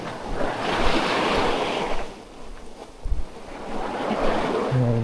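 Ocean surf rolls onto the shore at Anda, Bohol, with loud, continuous waves washing in and receding, swelling and dipping in repeated surges and roughened by gusts of wind.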